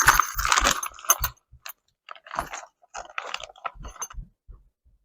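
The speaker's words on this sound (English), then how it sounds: "I'm going to find the nuts and bolts for this in here." Hardware for a workout bench being rummaged through, loud close metallic clinks, rattles and jangles in bursts with short pauses between them.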